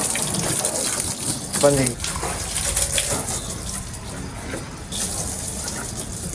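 Tap water runs and splashes steadily as something is washed, a constant close rush of water with someone talking briefly over it.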